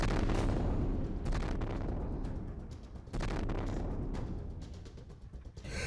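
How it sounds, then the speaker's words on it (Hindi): Bomb and missile blasts over Kyiv during the Russia-Ukraine war: several heavy, booming explosions, loud and close, with a dense rumbling roar carrying on between the separate bursts. "यूक्रेन की राजधानी अचानक बम धमाकों और मिसाइलों के फटने की आवाज से दहल उठती है।"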